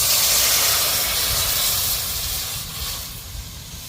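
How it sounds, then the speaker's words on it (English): Coconut milk hits a hot pot in a Jamaican yard-style outdoor kitchen, giving a loud continuous sizzling hiss up close that gradually eases off as it settles. "Coconut milk gone in a pot."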